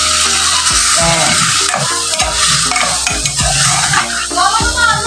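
Chicken pieces fry in hot oil while a metal utensil scrapes and stirs them in the pan, giving a steady sizzle with repeated close clanks and scrapes, and no talking.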